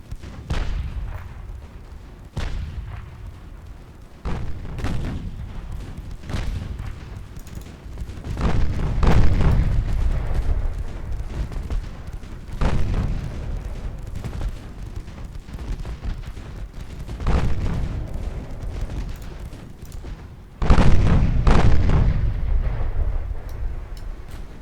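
Warship main guns fire again and again in the naval strategy game Ultimate Admiral Dreadnoughts: heavy booming salvos at irregular intervals, some grouped close together, each one followed by a long rumbling tail, loud, with no talking.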